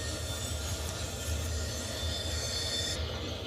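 Faint, steady low rumble and rolling hum of a freight train locomotive moving slowly with its train brake released, a continuous drone with a thin high whine, no speech.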